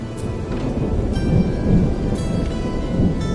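Steady rain pours with low rumbling thunder rolling underneath in the video game Anno 117 Pax Romana, continuous and fairly loud, no voices.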